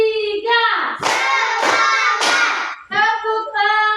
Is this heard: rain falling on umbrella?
no